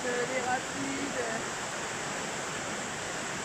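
Fast, high-volume river water rushes through rapids and cascades in a dense, constant roar, loud and close, with a few faint voices at the start.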